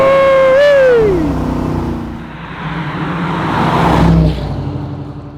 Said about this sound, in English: I love driving a convertible Camaro, and especially one this nice.